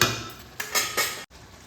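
A metal lid set onto a cooking pot of simmering lau shak, bottle gourd greens: a few quick clinks and taps of metal against metal, close and crisp, ending in a sharp cutoff.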